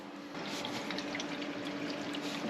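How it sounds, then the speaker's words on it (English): Bath water drains away through a pipe in a building under renovation, a steady close rushing and trickling flow with no talk. "Go on then, let the bath out."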